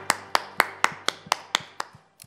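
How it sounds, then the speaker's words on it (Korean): Hands clap in an even, brisk rhythm during a Korean church worship service, about nine crisp claps in quick succession, fairly close and slowing slightly at the end. "우리 그 하나님께 영광의 박수 올려드리겠습니다."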